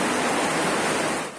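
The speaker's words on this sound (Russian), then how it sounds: "Вот оно все льется." Steady, loud rush of water leaking through a worn roof and pouring into an apartment, continuous noise with no voices, easing slightly at the very end.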